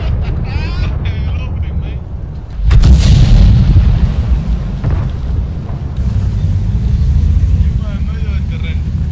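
Artillery shell striking a tank in World of Tanks, a sudden heavy boom followed by a low rumbling engine drone, loud and close, with someone talking excitedly over it.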